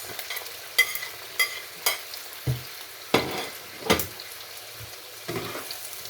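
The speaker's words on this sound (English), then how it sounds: "at this point do the stirring not to get burnt" Green pepper, tomato and red peppers fry in a pan with onions, a steady soft sizzle broken by several distinct scraping stirs spaced a second or so apart, close and alone.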